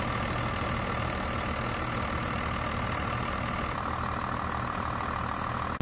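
A 1st Gen Cummins diesel in a truck idles steadily at close range, a continuous low rumble with a faint knock, running alone with no talk until a sudden change at the very end.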